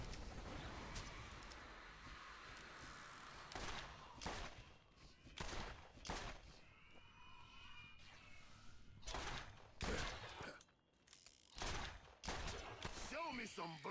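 Gunfire from the forked, trident-spreading bullets of a gun in the zombie-filled shooter Borderlands, as a series of loud, sharp bursts amid game noise, with someone talking between the shots.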